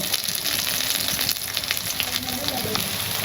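Onion and salt frying in a hot pan, a steady loud sizzle and crackle running throughout with faint clatter underneath.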